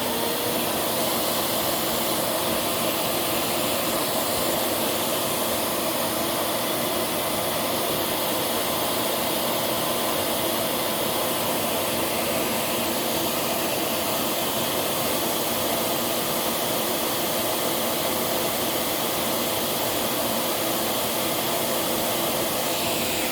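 A Miele S7 Bolero upright vacuum cleaner runs continuously at full power, a loud, steady, unbroken whooshing roar of airflow through the hose that neither rises nor falls.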